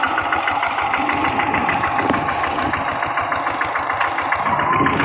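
Tractor engine idling in a rice paddy during field ploughing, a loud, close, steady rumbling chug with rhythmic knocking pulses throughout.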